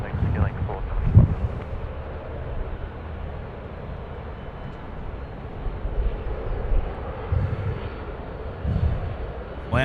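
A Qantas A330 airliner comes in to land at Sydney Airport with a low, steady engine rumble, fairly distant, as a voice speaks intermittently over it.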